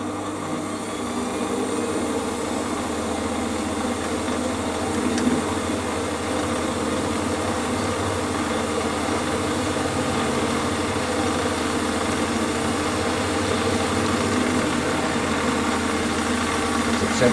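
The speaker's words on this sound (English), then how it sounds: "Centre drill the end of the bar." A Warco lathe runs steadily while centre drilling the end of a metal bar, giving a continuous mid-level motor hum and whine with faint vibration throughout, with no talk over it.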